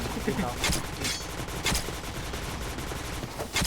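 Rapid automatic gunfire from a first-person shooter game, dense repeated bursts of shots close and loud, with players' voices talking underneath throughout.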